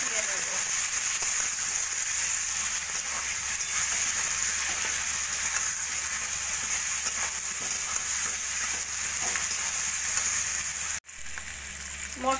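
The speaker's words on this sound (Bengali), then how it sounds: "দিয়ে দেবো 1 চামচ মতো আদা রসুন বাটা, দিয়ে ভালো করে মশলাটা কষিয়ে নেব।" Spices with ginger-garlic paste fry in a pan for a cabbage curry, giving a steady broadband sizzle that holds throughout, with a brief dip near the end and faint stirring.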